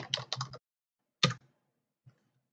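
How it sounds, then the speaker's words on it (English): Fast keystrokes on a computer keyboard as a command is typed into a PowerShell terminal, a quick burst of clicks, a pause, then one more short cluster and a faint final tap, close and clear in a quiet room. "all we have to do is to type invoke share"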